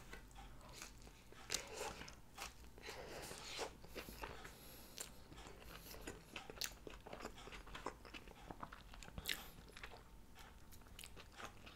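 Soft, close-up crunching bites and chewing of crunchy Taco Bell tacos, with irregular crisp snaps spread throughout and quiet mouth sounds between, no talking.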